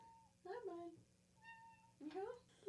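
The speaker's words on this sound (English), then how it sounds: "what did you not hear my cat?" A house cat meows close by, with several tonal calls, some short and some drawn out, spread across a few seconds of a quiet room.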